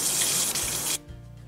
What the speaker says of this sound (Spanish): uno en el que tengo agua corriendo